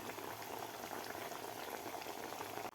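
Sabudana vadas fry in hot oil with a dense, steady bubbling sizzle. It is faint but constant for a few seconds, with no voices.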